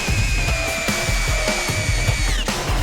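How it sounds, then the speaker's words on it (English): A Hyper Tough cordless drill on speed 1 drives a 4-inch Timberlock screw, whining loudly and steadily under load with a slight drop in pitch near the end. "The Hyper Tough tries to drill it in on speed 2, but it fails, so we had to switch it to speed 1."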